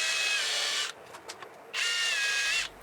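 Power drill boring holes into a curly American walnut board for a serving tray, two loud close bursts of high whining drilling separated by a short pause with faint handling noises.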